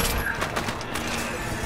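Sustained gunfire in Resident Evil 6, a dense, even crackle of shots that stays loud throughout the short moment.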